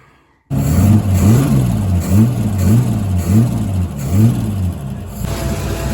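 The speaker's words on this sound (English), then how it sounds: "let's fire it up and see if she's running smooth now" A car engine catches after a moment of quiet and settles into a loud, steady idle close by, its low throb pulsing in a regular rhythm and tapering slightly near the end.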